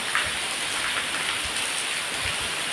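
Heavy rain pours steadily and close by, a dense, even hiss of drops on surfaces with no break and no voices.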